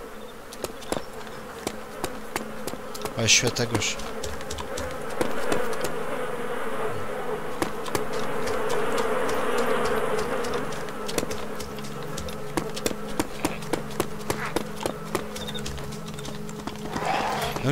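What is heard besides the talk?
flies buzzing around a mass grave in the video game DayZ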